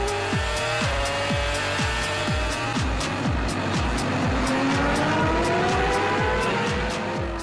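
2006 Formula 1 race cars streaming past the end of the pit lane, one high-revving engine after another whining by in rapid succession, loud and close, with downshift pops and overlapping roars.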